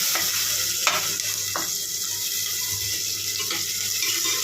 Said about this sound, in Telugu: కొంచెం సాల్ట్ వేసుకుంటే తొందరగా ఫ్రై అయిపోతాయి ఆనియన్స్.